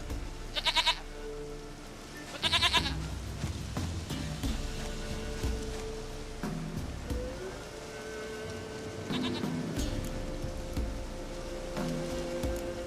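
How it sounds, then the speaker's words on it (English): Two short, loud goat bleats from The Witcher 3 ring out early and a fainter one follows later, set against continuous rain-like game ambience with no talking. "Goat of mine, dearest, sweetest goat."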